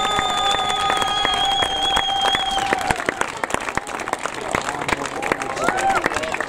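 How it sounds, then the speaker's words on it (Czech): A crowd at a youth football tournament awards ceremony claps for FK Chlumec nad Cidlinou, a steady round of applause with some cheering and babble, while a voice over a loudspeaker or a whistle-like tone rings out early on. "zasloužený druhý místo potlesk pro FK Chlumec nad Cidlinou"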